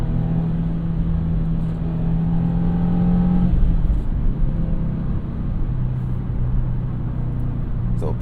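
A 2025 Subaru WRX TS accelerates in Sport Plus mode, its engine rumbling loud and close with rising tones, a gear change and a steady drone through the run, while someone talks over it.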